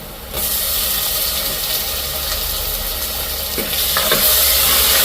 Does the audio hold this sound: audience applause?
no